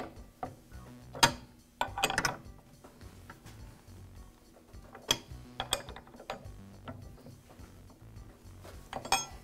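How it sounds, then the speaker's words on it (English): A wrench tightens the clamp bolt on a DeWALT miter saw, with scattered metallic clicks and ratcheting taps coming at an irregular pace, close up and fairly quiet. "I'll lock the spindle and tighten the bolt with the wrench."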